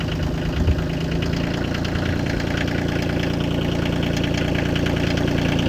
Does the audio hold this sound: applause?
no